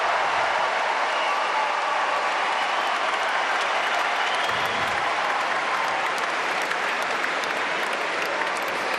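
A tennis crowd at the United Cup final breaks into loud, sustained applause, a dense wash of clapping and cheering that holds steady from start to finish with no voices cutting through.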